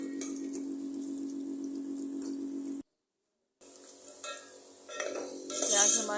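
Onions browning over a medium flame in a pot, a spoon scraping and clinking against the metal in steady strokes, with a soft sizzle underneath and a brief gap partway through.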